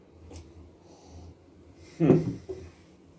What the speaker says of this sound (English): if I am snorting it, like, just breathing in deep